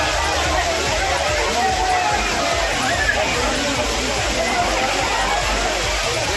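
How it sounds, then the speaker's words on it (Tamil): Courtallam waterfalls in the Western Ghats, swollen by sudden summer rain, roar in a dense, steady rush as tourists bathe beneath them, with a spoken voice carrying over the water throughout. "மேற்கு தொடர்ச்சி மலைப்பகுதியில் பெய்த திடீர் கோடை மழையால் குற்றால அருவிகளில் நீர்வரத்து தொடங்கியது"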